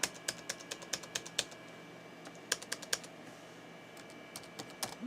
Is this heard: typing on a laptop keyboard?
yes